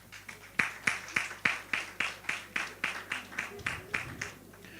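A graduation ceremony audience gives a round of applause as a series of evenly spaced claps that rise sharply and then thin out. The clapping is clear and moderately loud over a quiet hall.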